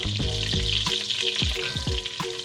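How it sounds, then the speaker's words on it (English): Butter and olive oil sizzle and crackle in a pan as the butter melts for risotto, a steady hiss with several utensil clicks and scrapes, close and without talk. "So the butter is melting."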